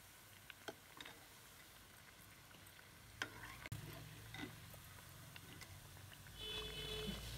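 Dal vadas deep-fry in hot oil with a soft, steady bubbling sizzle and occasional clinks of a utensil. The sound is fairly faint and close, with no one speaking.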